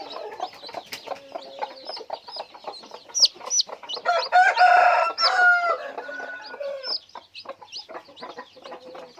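Chickens clucking in a backyard coop, with a rooster crowing loudly through the middle, surrounded by repeated short clucks and calls, close and lively, with no talking.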